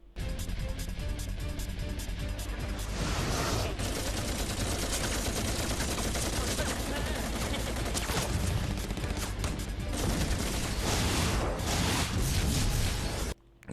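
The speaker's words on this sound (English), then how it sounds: "But over in Japan, it makes a more realistic bullet sound." Rapid, sustained bursts of gunfire from the Japanese version of the Sonic X anime, dense repeated bullet shots running continuously with brief lulls, loud and alone without speech.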